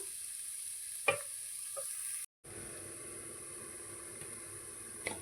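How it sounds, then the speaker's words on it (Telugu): Pigeon pea guggillu simmering in a pan on a low flame: a steady, soft hiss with a couple of faint clicks and one brief break in the sound. "ఇంక ఇది సిమ్లో పెట్టేసి ఒక రెండు నిమిషాలు మగ్గనిద్దాం"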